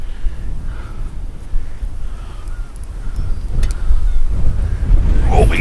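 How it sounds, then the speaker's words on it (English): Wind gusting at a lake, buffeting the microphone with loud low rumbling that swells toward the end, constant and close with no clear voice. "Holy smokes, the wind's blowing."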